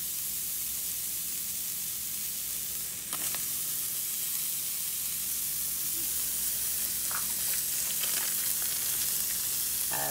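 Pears and blackberries heating in a pan make a loud, steady sizzling hiss, close up, broken by a few brief clicks and spatters.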